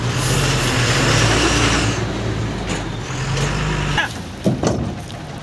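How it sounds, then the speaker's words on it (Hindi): A tipper truck unloads bituminous road material for a patch repair, its heavy diesel engine droning loud and close throughout, with clattering and a sharp hiss-like burst toward the end as the load empties. "यहाँ पे आ गया अपना टिपर, इसके अंदर हमने थोड़ा सा मटेरियल मंगाया था"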